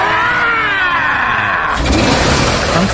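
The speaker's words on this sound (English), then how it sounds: "when they start her up, Sumo 2 doesn't sound quite as sexy as our two crooners. Not only is it misfiring" A Sumo car engine cranks with a rising whine, then catches into a rough, misfiring run that stays loud and close for the last second, with no voices.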